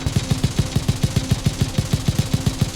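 A heavy machine gun in Airborne Ranger: FightOut hammers out a steady, rapid stream of evenly spaced shots, loud and close, with no voices over it.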